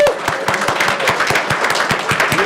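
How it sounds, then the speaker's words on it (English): Audience clapping at a college board meeting to honor classified staff, a brief burst of steady, moderately close applause. "just raise your hand so we can just clap and appreciate you."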